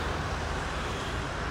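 Continuous broadband roar of road traffic with passing cars near a flood-control channel, steady and fairly loud, with no distinct single vehicles and no talk.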